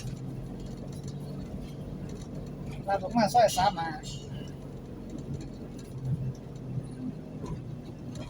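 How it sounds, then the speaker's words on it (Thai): Stop-and-go traffic fills a narrow Thai side street (soi), with a low engine rumble and passing vehicles close by, mostly under someone talking. "บรรยากาศในซอยครับรถติดติด"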